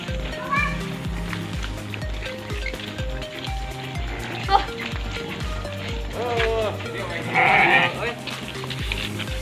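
Sheep bleat repeatedly during sorting of animals for the Eid al-Adha sacrifice, the calls close and fairly loud, mixed with ongoing speech and farmyard movement.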